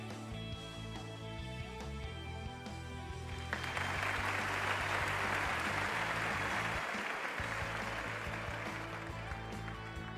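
A studio crowd in the Wheel of Fortune PS3 video game breaks into applause, a dense wash of clapping that swells in and continues steadily over background music for several seconds.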